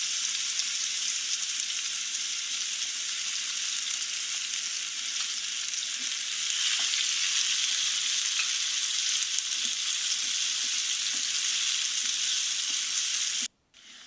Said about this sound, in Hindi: सबसे पहले प्याज फ्राई कर लेंगे।